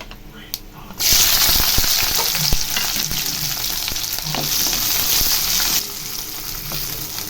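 Onions and garlic frying hard in hot oil for an adamant creeper (pirandai) curry. A loud, steady sizzle bursts in after a quiet moment, runs for several seconds with occasional stirring clicks, then drops back to a softer hiss.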